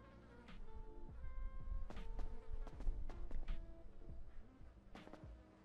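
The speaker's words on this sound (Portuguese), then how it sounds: "Olha o barulho de mosca." Flies buzz around a messy apartment in GTA 5, droning steadily and close through the whole stretch, with a few louder passes and scattered clinks of objects over it. Nobody speaks.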